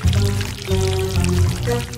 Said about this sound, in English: And I can just pour chocolate inside!